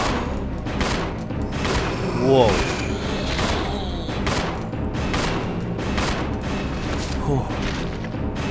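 Rapid gunfire in Resident Evil 0 HD, a dense run of loud booming shots over game sound, with a brief exclamation from a player partway through.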